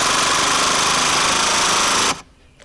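Makita LXT cordless impact driver in auto mode driving a screw, a loud, rapid hammering rattle held steadily for about two seconds before cutting off abruptly into quiet.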